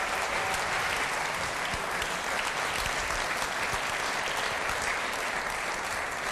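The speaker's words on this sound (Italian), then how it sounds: "Facciamo un applauso al Presidente, a tutti i Presidenti" Audience applauding presidents at a televised Christmas sports event in Italy, with many small athletes present: dense, steady clapping from a large crowd that holds at a constant level throughout with no voices on top.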